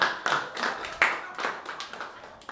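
Scattered, uneven claps from a small open-mic comedy audience, a few strong hits standing out among lighter ones that thin out toward the end.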